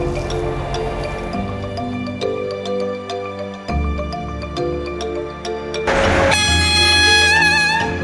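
A train rolls along the rails with a loud, steady rumble, repeated rhythmic clicks from the wheels and metallic squeals toward the end, heard from inside at close range without speech.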